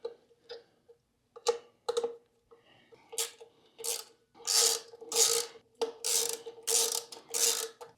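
A ratchet wrench snugs down receiver screws on a controller assembly with rapid clicking bursts, at first sparse and short, then longer and louder stretches of steady ratcheting nearby.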